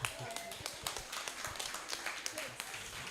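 An audience at a talk event in Uganda claps for the MCs, a scattered patter of many hands with people talking over it.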